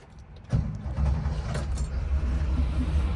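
A 1969 Porsche 911 RSR tribute engine starts: a faint jingle of keys, then the motor abruptly catches and settles into a steady, close, throbbing idle.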